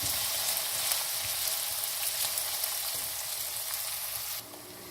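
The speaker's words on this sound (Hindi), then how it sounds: "ये जो चॉप किए हुए प्याज हैं ये डाल देंगे इसके अंदर और इसको लो फ्लेम पे मैं इसको सौते करूँगी।" Chopped onions sauté in olive oil over a low flame, giving a steady, close hiss of frying that holds at an even level before dropping away sharply near the end.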